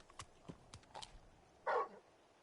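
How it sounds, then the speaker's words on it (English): A large dog in Final Fantasy XVI gives a few quiet barks and yips, followed by one louder, brief bark, all faint and spaced out against a quiet background. "You're just a big puppy, aren't you? A very big puppy."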